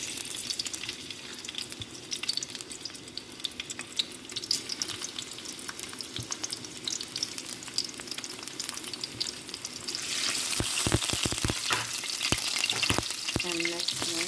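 Garlic sizzling in hot oil in a pan for chicken feet stew, a steady close frying hiss that grows louder and crackles more sharply toward the end, with stirring and no voices.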